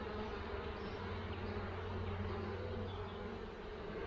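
Honeybees hum steadily around an open hive full of brood during a colony split, a dense continuous drone with no voices.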